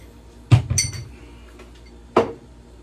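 Drinking glass grabbed beside a Hicozy ice machine, giving a sharp clink and a brief rattle of glassware, then a second clear clink about a second and a half later, close and loud with no talk.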